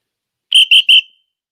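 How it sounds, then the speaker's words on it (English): Three short, shrill whistle blasts in quick succession, loud and close, with a brief ringing tail after the last one and silence around them. "3 whistles rang out, and I knew what that meant."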